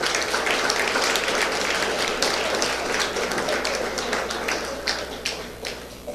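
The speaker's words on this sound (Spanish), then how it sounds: "Un aplauso," Loud, sustained applause from a forum audience at a World Multiple Sclerosis Day event, dense clapping that fades slightly toward the end.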